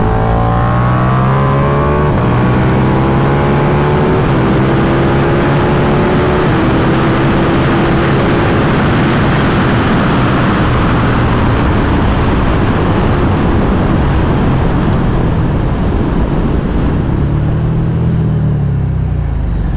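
KTM 1390 Super Duke R EVO motorcycles ride hard on a race track, with a loud, continuous engine roar rising and falling as the throttle opens and the bikes pass close by.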